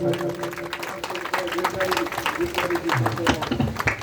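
Dense applause from a crowd at a community gathering as donations are announced, continuous and fairly loud, mixed with voices and a steady tonal hum underneath.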